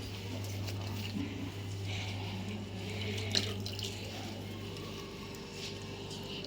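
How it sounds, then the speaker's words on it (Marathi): Chopped coriander is washed under a running kitchen tap, a steady, soft stream of water with occasional small splashes, continuous throughout and fairly faint. "दोन चिरून घेतलेली कोथिंबीर स्वच्छ धुवायची आणि घ्यायची आहे"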